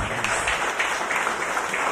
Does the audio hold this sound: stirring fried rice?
no